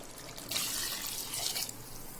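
Water poured into a pot of soaked biryani rice, a soft steady splashing rush lasting about a second amid quiet kitchen background.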